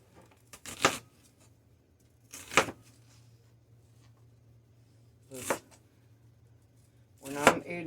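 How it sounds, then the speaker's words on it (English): A knife cuts through an onion on a board for a stew, making four separate crisp chopping strokes spaced a couple of seconds apart. Each one is close and sharp, with quiet gaps between them. "I'm going to cut my onion in half"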